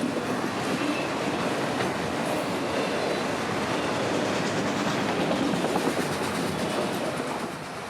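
Long freight string of racks bound for Drew Park rolling past at close range on a Florida line, steady broadband rumble with faint clickety-clack of wheels over rail joints throughout, fading slightly at the end.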